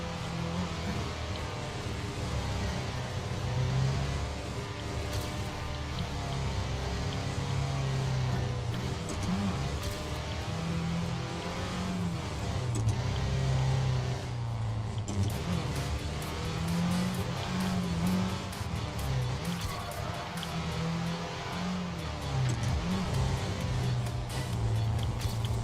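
Race car engine in the Trackmania Valley video game held at full throttle, a steady loud droning hum with continuous shifting pitch and occasional tire noise throughout, without a break.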